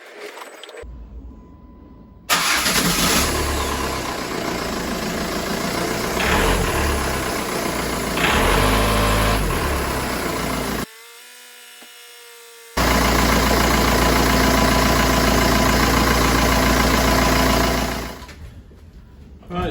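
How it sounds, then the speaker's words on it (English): A Jeep Patriot CRD diesel engine cranks and starts after a brief pause, then settles into a steady, loud close-up idle, cuts out for a couple of seconds, and idles again before dropping away near the end. "we're just going to start them up, get the oil circulating around the engine"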